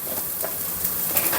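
Coconut masala paste with salt fries in a pan for mushroom curry, a close, steady sizzle with scraping stir strokes.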